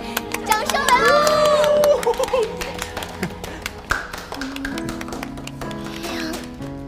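Applause with cheering from a crowd, dense clapping and excited voices alongside a short musical tone, with the claps thinning out and a few louder taps toward the end.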